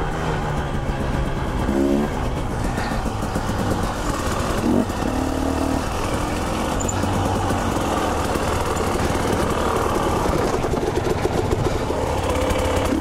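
A 2019 Husqvarna TE300i dirt bike engine runs continuously for the whole stretch, a close, steady buzzing drone with slight throttle variations and no talking.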